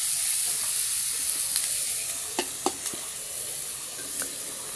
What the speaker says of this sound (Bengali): তারপর পেঁয়াজ ও কাঁচামরিচ ভেজে নিব।